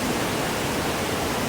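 Broad, steady rushing roar of river water flowing strongly at Hogenakkal falls, loud, close and unbroken, with no voices.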